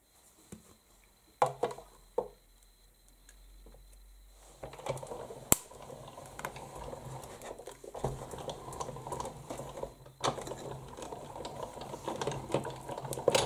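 A hand-cranked die-cutting machine being turned to cut magnolia shapes from paper for DIY magnets, a quiet ratcheting, clicking crank rhythm with scattered sharp clicks, close and faint.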